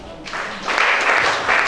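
A church congregation breaks into applause, a dense wash of clapping from many hands building quickly and holding steady, fairly close and filling the room.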